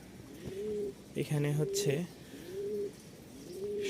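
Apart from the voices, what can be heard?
Rajshahi Giribaz pigeons cooing in delivery cartons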